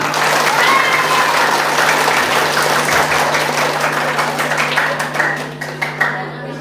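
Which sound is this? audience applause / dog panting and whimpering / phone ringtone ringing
audience applause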